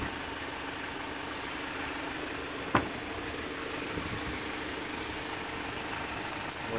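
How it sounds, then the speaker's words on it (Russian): A Hyundai Porter truck's engine idles steadily at low volume, a faint even rumble with a single brief click partway through and no voices. "Двигатель работает нормально."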